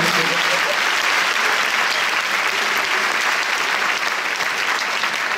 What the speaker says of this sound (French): Faites un maximum de bruit, Ramsey est extraordinaire.